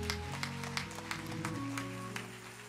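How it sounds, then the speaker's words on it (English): Congregation clapping hands in praise during a church service, sharp rhythmic claps over sustained organ or keyboard chords, moderately loud and steady throughout. "Let's give God another hand clap of praise."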